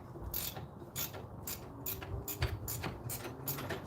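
A ratcheting wrench works on the driver side strut of a 2009 Nissan Altima coupe, giving a steady run of close, crisp mechanical clicks in quick repeated bursts with no talking.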